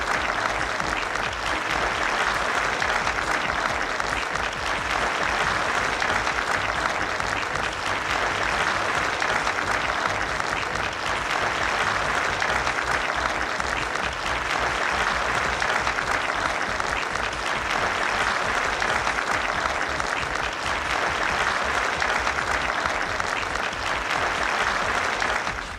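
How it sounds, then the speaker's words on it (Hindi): Sustained applause from an auditorium audience at a company cultural function, dense steady clapping continuing without a break for the whole stretch, no voices over it. "जोरदार तालियों की आपसे दरकार है"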